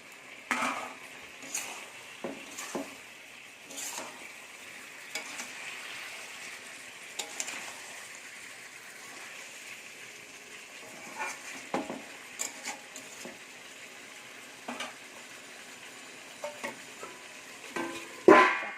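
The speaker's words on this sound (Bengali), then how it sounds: "ভালো করে নাড়াচাড়া করতে হবে এবার আমি এর মধ্যে ভেজে রাখা আলুগুলো দিয়ে দেবো" Chicken curry with fried potatoes is stirred in a pan: faint scraping and clinking of a spoon against metal come in irregular bursts over a low simmer, quiet and close.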